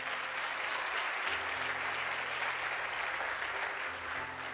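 A church congregation applauding during a worship service, dense sustained clapping from many hands filling the room throughout, with a low hum underneath.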